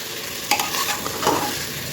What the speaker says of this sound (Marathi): आता कोथंबीर टाका त्याच्यात मिक्स करा